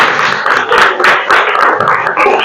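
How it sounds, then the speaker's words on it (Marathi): Schoolchildren at a primary school quiz clap loudly for a student in a few close, dense bursts of applause. "हिच्यासाठी सर्वांनी टाळ्या वाजवायच्या आहेत"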